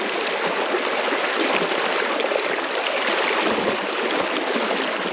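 The Kootenai River in Montana rushes in a steady, loud broadband wash of flowing water that stays constant throughout, with no speech.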